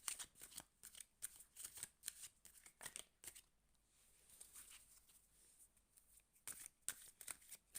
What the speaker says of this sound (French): Je les bats à l'endroit, mais après, on va les retourner.